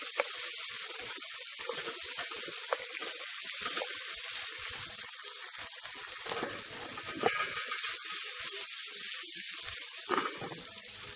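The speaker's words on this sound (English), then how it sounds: "And I'm gonna saute them up" Hot pepper, tomato, onion, sweet pepper and thyme sizzle steadily in a pan, a faint, even frying hiss running throughout with occasional light scraping of stirring.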